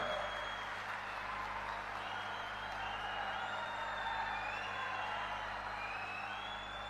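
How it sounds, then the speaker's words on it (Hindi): A huge crowd at a Mahayuti alliance public rally in Ichalkaranji applauds loudly and steadily, a dense wash of clapping with scattered whoops and cheers running unbroken throughout. "दादा अवार्डे जी के लिए जोर से ताली बजाना जरा"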